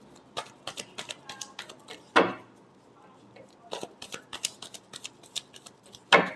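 Tarot cards being shuffled by hand in a final shuffle, a series of crisp papery riffles and flicks in irregular bursts, with two louder sharp snaps, close up and without talk.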